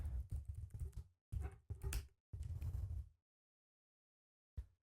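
A password being typed on a computer keyboard as a quick run of soft, close key clicks in short bursts, then a pause and a final single key press.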